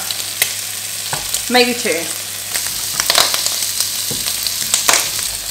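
Bacon crackling and sizzling in a hot pan with oregano, basil and balsamic vinegar, steady frying hiss under scraping and stirring clatter as pieces are moved around, a brief voice speaking near the middle.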